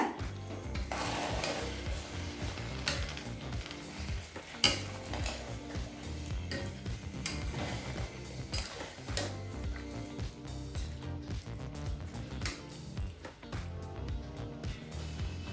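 Cooked vegetables stirred into rice and dal in a pot for village-style kootanchoru, with a steady run of ladle scrapes and metallic clanks against the pot over a faint sizzle, close and fairly quiet.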